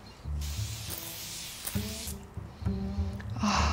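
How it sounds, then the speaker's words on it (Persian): Rose water face mist is sprayed onto the face in hissing bursts, with a low, tonal background sound running underneath. "من یکم از اسپری روز واترم روی صورتم اسپری میکنم"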